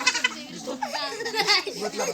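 A goat bleats nearby in short wavering cries, mixed with children's voices and chatter.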